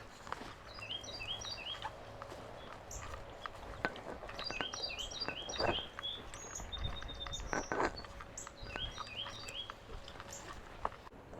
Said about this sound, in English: Carolina wren singing in the distance, if you can make that out.